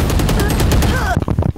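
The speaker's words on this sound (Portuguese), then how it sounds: "Tem um cara aqui tocando tiro com nós" Rapid bursts of automatic gunfire in the video game Valorant, loud and close, forming a dense stream of shots that breaks into a few separate cracks near the end.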